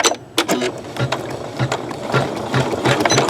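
Embroidery machine stitching quilter's cotton, a steady mechanical whirring with rhythmic needle clicks repeating about twice a second, close and fairly loud with no voices.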